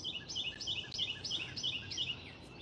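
Birds call outdoors near a garden in the morning: a steady run of sharp, high chirps repeating in regular quick phrases, fairly close and distinct, with a faint low ambient hum underneath and no talking.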